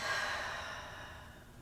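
A single long exhale during a yoga session, a close, breathy sigh that fades out over a second or so.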